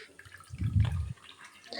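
Water runs and splashes off freshly washed coriander leaves in a kitchen strainer. A brief, close gush drains away into lighter trickles and drips.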